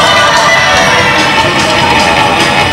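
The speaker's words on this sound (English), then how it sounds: "We had some clapping from the judges." Crowd cheering and shouting at a robot racing event, a loud, continuous wash of voices with whoops and children's shouts, with no separate hand claps standing out.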